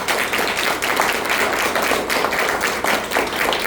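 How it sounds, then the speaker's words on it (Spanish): Church congregation applauding together after a worship set, a steady dense wash of clapping that fills the whole stretch at a constant level with no voices on top. "Vamos a dense un aplauso, por favor."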